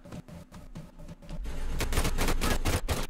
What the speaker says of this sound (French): je vais garder cette mitraillette-là, du moins, tant que j'ai des balles